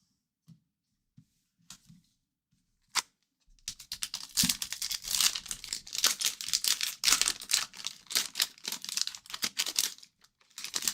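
A foil sports card pack is torn open and crinkled during a card break: a few soft taps first, then a long run of dense, close, crackling rips and crumples, with no speech.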